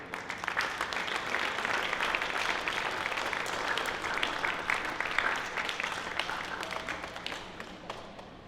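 Applause at a talk honouring an aging Italian cycling racer near the end of his career, steady and fairly dense for several seconds at moderate distance, with no speech over it.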